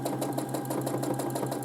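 A home sewing machine running at a steady fast pace during free motion quilting, its needle thumping in a rapid even rhythm over a constant motor hum, close and fairly quiet.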